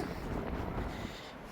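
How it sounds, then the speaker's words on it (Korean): Strong wind buffets the microphone with a constant, loud, rumbling roar, and no voices are heard. "바람 소리 장난 아니죠?"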